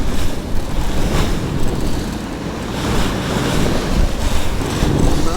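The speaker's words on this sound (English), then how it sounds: "The waves are not too bad, but the wind is picking up slowly." Wind and sea waves out on the cold North Sea in midwinter from aboard a sailboat, a loud, steady rush of wind noise with surging wash of water swelling and easing, no voices.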